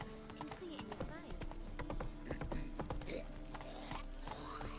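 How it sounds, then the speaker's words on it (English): Hooves clip-clopping as a horse is ridden in The Witcher 3: Wild Hunt, a steady rhythmic gait with a brief whinny, blended with game sounds and someone talking over it. "no puedo acelerar con el caballo"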